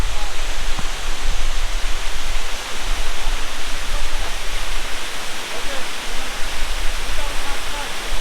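Rushing water from the Dhuppani waterfall roars as a steady, dense broadband wash, loud and constant throughout with no clear voices.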